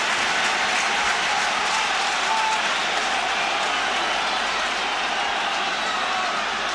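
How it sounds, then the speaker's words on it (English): A large rugby stadium crowd during the All Blacks versus Munster match roars and cheers at a missed kick, forming a broad, sustained wash of distant noise that holds steady, with a commentator's voice faintly mixed in. "Well, big cheer because he's missed it."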